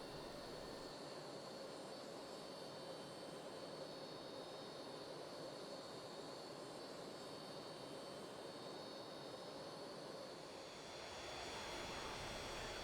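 A Hawker Hunter jet in a flight simulator rolls and lifts off with a continuous even roar and a faint whine, growing slightly louder toward the end, with no voices.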